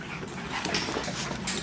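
A dog panting and whimpering during a tug-of-war game, close and steady over a short stretch.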